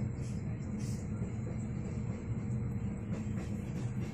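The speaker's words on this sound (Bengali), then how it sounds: "এই যে ট্রেন ছাড়লো" A passenger train rolls along steadily with a low, continuous rumble and faint rattling, heard from inside a carriage on a long-distance journey.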